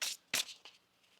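Tarot cards being shuffled at close range: two or three quick papery riffles, the middle one loudest, each dying away fast into near silence, with no voice.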